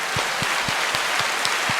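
Audience applause on a comedy podcast, a steady hiss of clapping with a regular pattern of low thumps at an even beat, sustained and moderately loud, with no voices.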